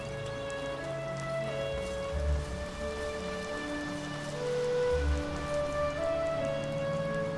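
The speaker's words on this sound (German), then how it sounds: "wie lange das hier heute einfach regnet. Es ist ja eine komplette Aufnahme im Regen." Rain falls steadily in the fantasy video game Enderal, a constant hiss under sustained tonal background music, with a couple of soft low thuds.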